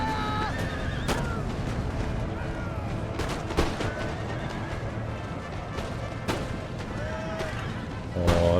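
Horses whinny and hooves clatter while musket volleys crack repeatedly across an Empire: Total War battlefield, sharp shots standing out at intervals over steady battle din, with a voice speaking now and then.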